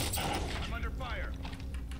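Gunfire rattles in the video game Warzone, a dense burst of shots under a busy, noisy mix with game sounds.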